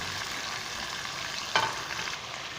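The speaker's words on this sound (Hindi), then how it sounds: "तो चिकन को उस वक्त हम भूनेंगे, उस वक्त तक जब तक सफ़ेद कलर है इसका" Chicken pieces fry in a pan for chicken qorma, a constant close sizzle of oil with one sharp scrape or clink midway and gentle stirring after, no talk.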